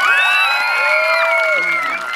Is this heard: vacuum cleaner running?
no